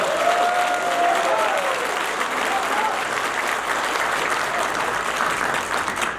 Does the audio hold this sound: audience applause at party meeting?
yes